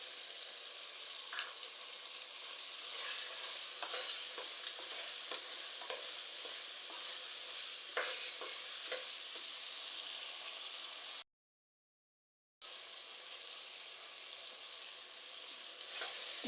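Dried red chillies frying and being stirred in a pan for board beans kuzhambu, a steady close sizzle with scattered scraping taps of the spoon, continuous and unbroken apart from one short gap.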